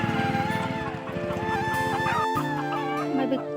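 Village chickens clucking close by in overlapping, rhythmic calls, with a voice talking over them.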